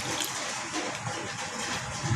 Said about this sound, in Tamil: தண்ணி ஊற்றி